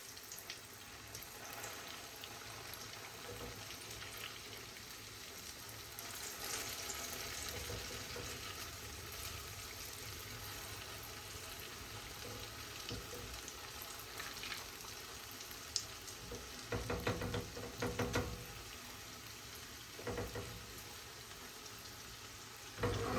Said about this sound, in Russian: теперь уже с другой стороны пусть жарится